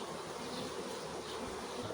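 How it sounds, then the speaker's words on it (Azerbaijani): Honey bees crawling over beehive frames where they have gathered honey, making a steady, continuous buzzing drone with no other sounds. "Bir neçə çərçivə burada bal toplayıblar arılar."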